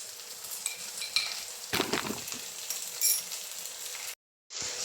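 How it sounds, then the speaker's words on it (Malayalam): Ginger garlic paste sizzles and fries in a pan while being stirred, with steady crackling and scraping strokes up close, broken by a brief silent gap near the end. "അപ്പോൾ നമ്മുടെ ഇഞ്ചിയുടെയും വെളുത്തുള്ളിയുടെയും ആ പച്ച ചൊവയൊന്ന് മാറുന്നത് വരെ നമ്മളൊന്ന് അത് ഇളക്കി കൊടുക്കണം"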